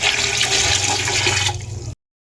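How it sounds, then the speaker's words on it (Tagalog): Water pours steadily for about two seconds into a pressure cooker holding chicken feet, a full rushing splash that cuts off abruptly. "at lagyan po ng tubig"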